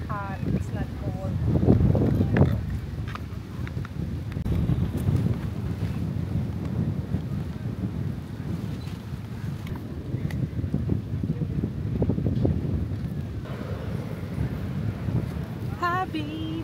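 Gusty wind on a beach buffets the microphone in a steady roar that swells and eases, while people talk intermittently over it.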